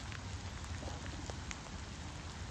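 Steady rain pattering on surfaces, a continuous soft hiss with occasional distinct drops, fairly quiet and even throughout.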